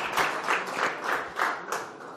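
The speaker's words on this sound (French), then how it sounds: "Vous pouvez les applaudir." Applause at a French political party's national council speech, rather faint and distant clapping from the hall with a loose pulsing swell, brief and without voices on top.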